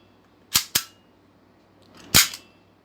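Pullback barrel of a full metal toy gun lighter racking sharply: two quick metallic clacks close together, then after a pause a third louder snap with a short rattle, close by and with no talk.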